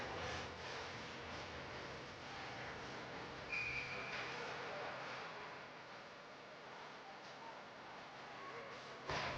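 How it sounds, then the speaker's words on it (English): Referee's whistle at a junior varsity ice hockey game, one short clear blast partway through, heard over steady arena crowd noise and rink ambience. "it'll be whistled dead"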